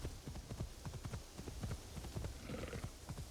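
A ridden horse's hooves clip-clop in a steady trotting rhythm in the video game Assassin's Creed Shadows, quiet and continuous with faint ambient hiss behind.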